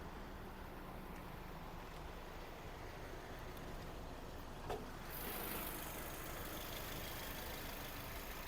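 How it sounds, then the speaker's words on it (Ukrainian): A Volkswagen Caddy Maxi engine idling with a steady, low continuous rumble, close by, with a faint brief click midway and no talking. "робота двигуна."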